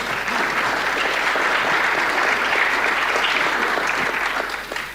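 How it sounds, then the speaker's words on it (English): An audience at an investment managers' event breaks into steady, full applause, dense clapping that holds for several seconds before tapering off at the end. "Round of applause for that, huh?"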